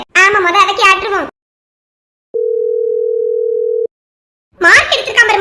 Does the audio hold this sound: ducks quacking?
no